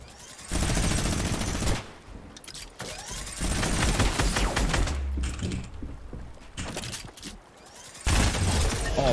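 Minigun in the video game Fortnite firing in sustained rapid bursts, loud mechanical rattling bursts broken by brief pauses across the clip.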